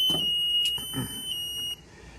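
A temperature controller's over-temperature alarm sounds in short, piercing high-pitched beeps, close and loud, repeating in a quick broken pattern over faint background noise.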